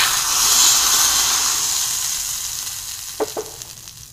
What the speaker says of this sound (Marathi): आपल्याला या पिठामध्ये आता फोडणी घालायची आहे। मोहरी आणि जिऱ्याची फोडणी घालायची आहे।